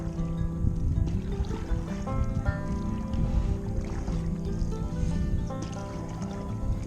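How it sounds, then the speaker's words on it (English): Ice sheets sliding and grinding over one another on a partly frozen lake in central Minnesota in late December, heard from a canoe: a continuous mix of creaking, squealing tones over a low, dense rumble, close and steady. "You can hear the ice sliding over itself."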